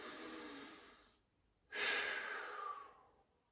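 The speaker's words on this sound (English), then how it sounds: "let's take that deep breath in through the nose. And forceful exhale, and one final deep breath in." A single person draws a deep breath in through the nose, pauses briefly, then lets out a strong, forceful exhale that tapers off; close and quiet, with no talk.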